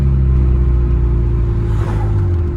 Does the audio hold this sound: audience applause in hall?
no